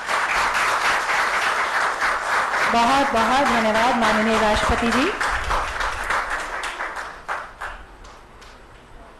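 An audience at a ceremony with the President in Dehradun, where children receive low vision glasses, claps loudly and steadily while someone speaks over the applause, which fades toward the end.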